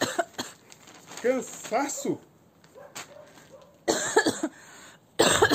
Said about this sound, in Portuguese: Tosse?